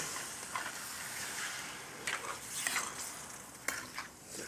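Turtle stew stirred after brandy goes in, a soft continuous wet sizzle with a few brief scraping strokes of a spoon against the pot, close and without talk.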